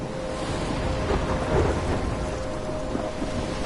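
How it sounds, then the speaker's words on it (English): Thunderstorm in the video game Life Is Strange: steady heavy rain hiss with low rolling thunder rumbling throughout, swelling slightly in the middle, no voices. "I'm trapped in a storm?"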